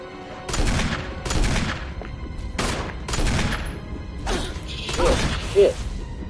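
A handgun is reloaded in the 2002 Resident Evil (Biohazard) remake, with sharp mechanical clicks and clacks in a row of separate bursts spaced about a second apart. The bursts sound loud and close, with no voices.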